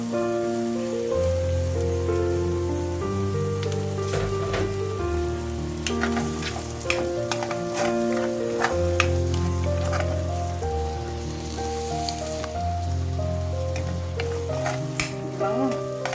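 Onions sizzling in a pan with garlic for chicken afritada, giving a continuous close crackle like steady rain. Light crisp pops run through it, and a low musical backing sits underneath.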